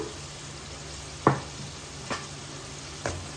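Butter chicken masala sauce, still somewhat watery, sizzles steadily in a pan on its own while a spoon stirs it, with a few sharp scraping knocks against the pan.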